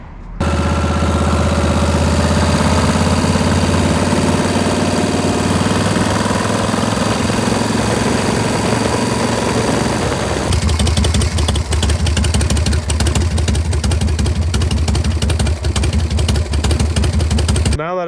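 A 1981 Harley-Davidson Shovelhead with an oil-leak problem idles close by in a steady, loud, lumpy rumble, the engine note shifting to a rougher, more pulsing beat partway through.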